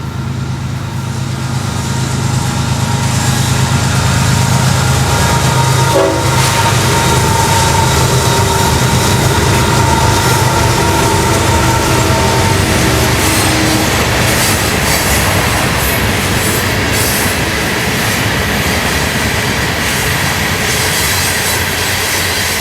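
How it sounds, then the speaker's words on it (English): A Florida East Coast Railway northbound freight train led by three ES44 locomotives crossing over a canal, a loud continuous roar of engines and rolling wagons with occasional wheel squeal, steady throughout. "Another day we set over the Cypress Creek Canal for northbound train 202 with a trio of champion ES44s."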